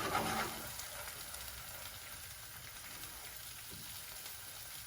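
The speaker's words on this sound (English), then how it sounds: "You can probably hear the snapping and crackling and popping" Spicy chicken filling for dosa frying in a hot pan, a steady close hiss of crackling and popping oil throughout, with a brief stir at the start.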